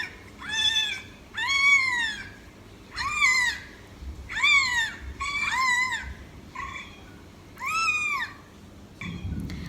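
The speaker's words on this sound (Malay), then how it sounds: "jadi haiwan pertama ialah kucing" A recorded cat meows repeatedly, about seven or eight distinct rising-falling meows in an irregular rhythm, clear and close over a faint background hiss, with no talking.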